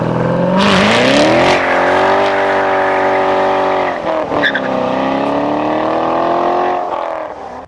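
A 2015 Corvette C7 Stingray Z51 does a burnout, its V8 roaring steadily at high revs while tires squeal loudly, with a short dip in the middle before the engine climbs again and then fades.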